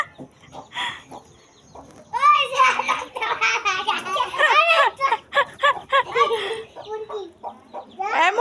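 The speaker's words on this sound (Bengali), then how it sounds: "সব মুরগি বের হয়ে যাচ্ছে" Domestic chickens cluck and squawk loudly and repeatedly, close by, while a person calls out and shoos them in a village yard, with the bird calls and voice overlapping throughout.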